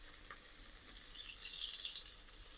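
Chopped ginger and chillies frying in hot oil with a piece of cinnamon and a cardamom pod, a steady soft sizzle that swells slightly midway, heard alone.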